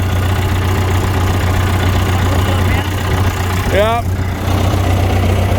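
A John Deere 440 skidder engine runs at a steady low rumble, close and continuous, while a person speaks briefly over it.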